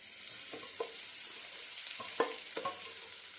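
Onion and capsicum mixture sizzling steadily in a pan over a low flame, with a few distinct scraping stirs of the spoon against the pan standing out over the constant frying hiss.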